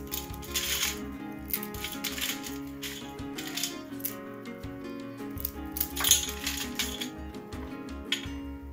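Dry Maggi instant noodles are snapped by hand into pieces, producing repeated close, brittle crackles and crunches over steady background music.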